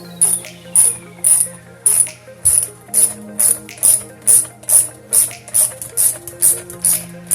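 A ratchet tool tightens bolts on a custom airbag cover in a Tesla, with loud, close, rhythmic clicking bursts at a regular pace, about two per second, and no talking.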